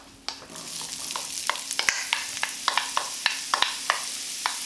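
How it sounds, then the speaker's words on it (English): Onions frying in oil, a steady sizzle broken by regular sharp clicks of a utensil stirring against the pan, close up with no talking. "we are going to put in the vegetables into the very, very same oil again"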